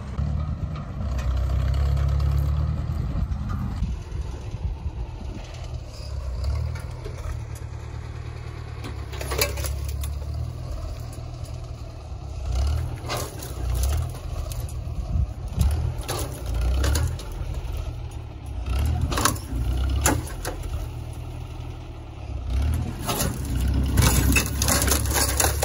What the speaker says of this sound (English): We're gonna reset the chain and the tractor, try to pull the back end up over this way